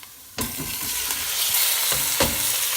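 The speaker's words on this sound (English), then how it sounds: "we're going to throw in the pasta" Cooked pasta lands in a frying pan with garlic and chilli, a sudden loud sizzle that carries on steadily, broken by several scraping tosses, with no talk.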